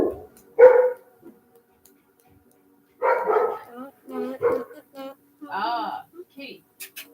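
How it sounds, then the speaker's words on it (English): Dogs barking in short separate bursts with a gap in the middle, close and fairly loud, mixed with nearby human talk. "You guys should not be barking at cats."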